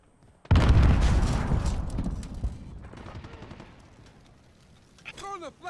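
A grenade explodes in Call of Duty: Modern Warfare with a loud, close boom and crackling gunfire, then the noise fades into a distant rumble as a voice speaks near the end.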